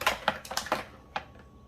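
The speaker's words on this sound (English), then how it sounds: "I'm gonna have to cut this with a trimmer really fast." A handheld paper trimmer slices a book page for envelope collage, giving a quick series of sharp clicking snips, about six close together and then two lighter ones after a pause, near and fairly quiet.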